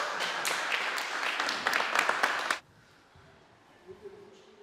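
Applause from a church audience at a loud-burping contest, a dense burst of clapping for about two and a half seconds that cuts off abruptly into quiet room murmur.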